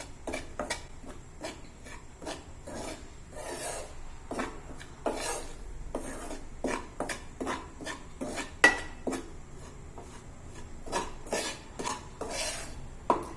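Wheat flour roasts dry in a pan for panjiri while a spoon stirs it continuously, producing repeated rasping scrapes against the pan in a quick, uneven rhythm, close and fairly quiet, with no voices.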